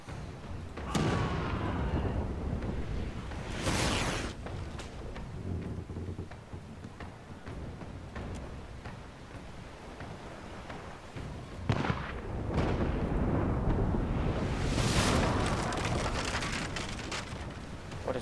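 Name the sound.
ship cannon fire in the video game Pillars of Eternity 2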